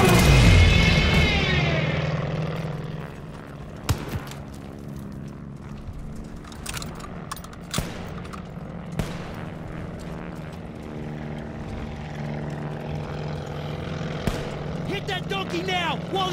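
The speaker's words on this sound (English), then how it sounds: "That's a plane!" A droning propeller plane engine hums steadily throughout, louder at the start, with sharp impacts and clatter scattered over it, in a 1941 Tobruk war video game.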